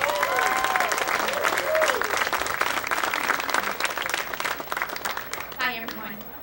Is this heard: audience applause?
yes